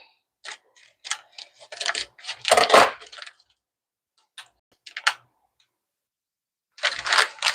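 Scissors snip open a folded spaghetti package bought at an Italian market, in a home kitchen: a close run of crisp clicks and plastic crinkles, a louder rustling burst, a pause with a few faint taps, then another quick crackle.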